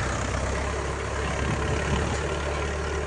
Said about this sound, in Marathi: ट्रॅक्टरवर पेरणी चालू केलेली आहे